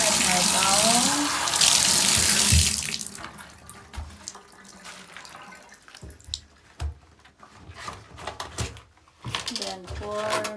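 Tap water gushes from a faucet to wet a cleaning towel, loud and close for a few seconds, then gives way to quieter dripping, wet handling noises and a brief voice.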